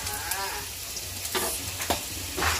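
Onion frying in hot oil for chicken, a dense close sizzle broken by a few quick utensil scrapes and stirs.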